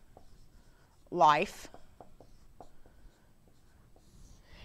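Pen scratching on paper while working a math problem, soft short strokes in an irregular rhythm, close and quiet, with one brief spoken word partway through.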